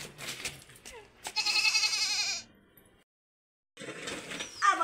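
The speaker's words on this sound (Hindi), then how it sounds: "और ये बकरी भी आया है वहां से।" A goat bleats in a village courtyard, a few loud, close, wavering cries broken by a brief silence, with faint sounds around.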